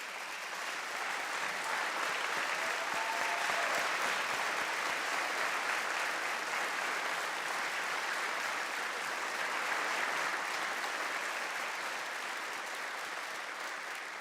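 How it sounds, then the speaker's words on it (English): Sustained applause from a large audience at a governor's State of the State address fills a big hall evenly, steady and broad throughout, heard from a distance with no voices over it. "I ask you to give her a big round of applause"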